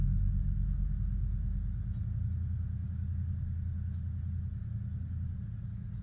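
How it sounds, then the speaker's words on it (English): A truck engine idles steadily after being started, a constant low rumble that stays loud and unbroken throughout, with no voices over it. "I just heard my daughter-in-law crank up the truck."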